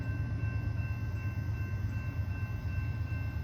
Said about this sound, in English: Long military train, Kansas City Southern,